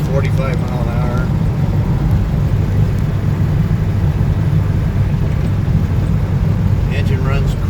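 A 1968 Pontiac Firebird with a 455 Ram Air tunnel port engine cruises at about 45 mph, a steady low rumbling drone mixed with road and wind noise, with faint voices near the start and end.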